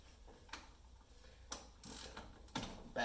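A 1/4-inch torque wrench set to 120 inch-pounds is tightened on a brake banjo bolt fitting during a Wilwood caliper install on a third-gen Camaro, giving a few faint, sparse ratcheting clicks with a sharper click near the end.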